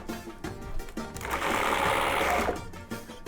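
An electric mixer whips goat cheese with creme fraiche, olive oil and a pinch of salt, giving a steady whirring motor burst of about a second amid softer kitchen clatter.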